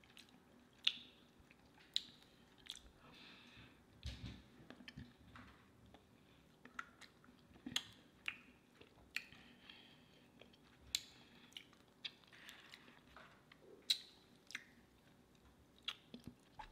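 Close, quiet chewing and crunching of Sonic fast food during a mukbang tasting, with soft wet squishes and sporadic sharp bites spread over a hushed background.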